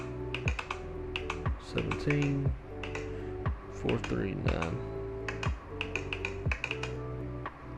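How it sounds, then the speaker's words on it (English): Cockpit buttons clicking in a Fenix A320 flight simulator, a quick run of sharp, loud clicks and taps recurring in an uneven rhythm while a voice talks over them. "They made the volume on this button clicking a lot louder."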